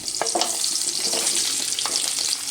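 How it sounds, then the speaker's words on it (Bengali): Long-cut potatoes fry in hot oil, giving a loud, steady sizzle throughout with a few scraping stirs. "আলুগুলো ততক্ষণই আমি নেড়ে চেড়ে ভাজতে থাকবো যতক্ষণ না একটু লাল লাল হয়ে আসে"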